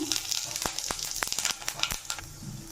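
Mustard seeds and cumin sputtering in hot oil in a pan on the stove. Sharp crackles and pops burst in quick, irregular succession over a soft, continuous sizzle, close and fairly quiet.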